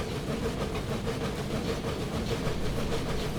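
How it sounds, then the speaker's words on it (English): Steam locomotive CPRR No. 60 in Train Simulator 2017, working hard at a higher cutoff: a steady, dense rumble of engine and rolling stock, continuous and fairly loud with faint rhythmic chuffing texture and no talk. "when you go into a higher cutoff, you can actually hear the engine working harder"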